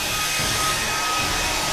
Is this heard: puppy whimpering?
no